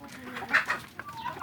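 Free-range village chickens raised in a coop cluck in short close bursts, a few distinct calls over quiet farmyard background.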